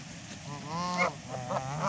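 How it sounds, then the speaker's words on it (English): Ducks being fed give loud, nasal honking calls close by, a few quick honks in a row with short gaps between them. "Here you go, Mr. Duck."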